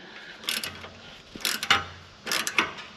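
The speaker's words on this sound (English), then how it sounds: "go ahead and loosen up this nut here" A ratchet wrench loosens a 15mm nut on a Jeep Wrangler 392, producing three short bursts of close clicking pawl ratcheting separated by brief pauses, with no talking.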